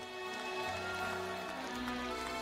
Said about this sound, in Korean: 경남도민 여러분 뜨거운 박수 보내주십시오.